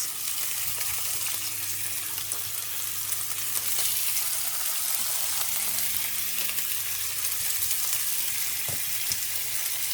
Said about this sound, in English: I'm gonna simmer it down so it gets.